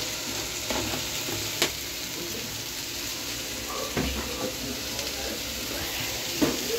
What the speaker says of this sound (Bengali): সেটা দিয়ে দিলাম, দিয়ে একটু নাড়াচাড়া করে নিই।